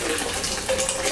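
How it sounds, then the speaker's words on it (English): Boiled water poured from a kettle into a home brewing vessel for a Cooper's micro brew kit, a steady broadband gush of running liquid that lasts the whole short stretch with no pauses. "I'm going to take the boiled water from the kettle and pour it into here."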